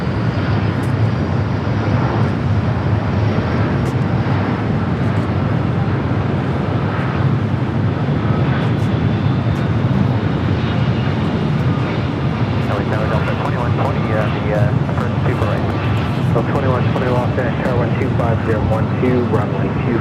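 Delta Boeing 757 airliner at Los Angeles International Airport, a steady, loud jet engine roar with wind noise, unbroken throughout, while a person talks over it.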